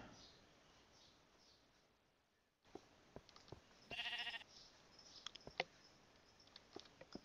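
A sheep bleats once in the blocky sandbox game Minecraft, a short, fairly loud nasal cry standing out among scattered clicks and block-placing taps.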